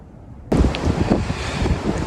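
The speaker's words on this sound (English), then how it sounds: "It's really windy up here. I hope you can hear me." Strong wind suddenly buffets the microphone on high ground above a disused railway tunnel, a loud continuous roar with gusty rumbling that persists to the end.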